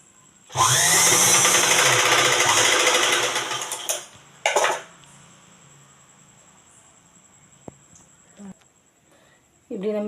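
A sewing machine stitches the neck of a nighty, a loud steady whirring run of about three seconds, then a short second burst, followed by quiet fabric handling and brief clicks.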